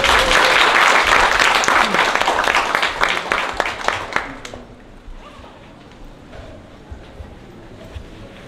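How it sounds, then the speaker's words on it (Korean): A crowd bursts into loud applause to welcome a guest at an art exhibition opening in Yongsan. The clapping fades after about four seconds, leaving scattered claps and quiet room noise. "한 분 한 분 소개할 때마다 큰 박수로 맞이해주십시오"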